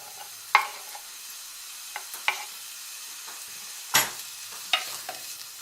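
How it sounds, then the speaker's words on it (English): Red peppers cook in a hot pan in their juices, with a faint low sizzle under several sharp, close clinks and scrapes of stirring spaced a second or so apart; no one talks. "add in the red peppers to cook"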